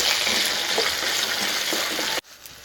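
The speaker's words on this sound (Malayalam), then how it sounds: "ഇനി അത് നന്നായിട്ടൊന്ന് വഴറ്റിയെടുക്കാം." A cup of peeled small onions and garlic sauté in a pan for a curry-leaves curry, making a dense, steady sizzling hiss up close that cuts off abruptly near the end.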